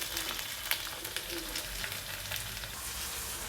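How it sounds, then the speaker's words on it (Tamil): Green beans fry in a pan for a Tamil beans fry dish, giving a steady, quiet sizzle with small crackles and a few soft stirring clicks, with no talking. "இந்த பீன்ஸ் எல்லாம் நல்லா பொரித்து எடுத்துடலாம்."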